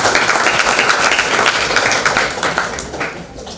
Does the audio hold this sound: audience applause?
yes